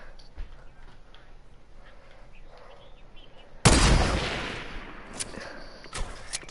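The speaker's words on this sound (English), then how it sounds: "I'm shooting a gun." Gunfire in a video game: a loud shot bursts out mid-clip and trails off in a long fading tail, followed by a few sharper, quieter shots near the end.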